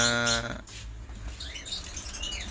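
A songbird chirps close by outdoors, with a bright tonal call at the start and fainter scattered tweets afterward over low background noise.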